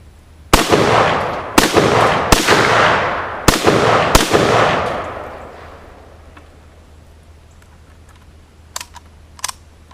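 Five sharp, loud gunshots from a 1953 Tula-built Russian SKS rifle, fired at uneven intervals with ringing decay, then a few faint clicks at the end and no talking.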